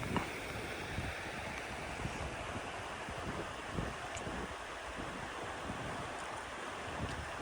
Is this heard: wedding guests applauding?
no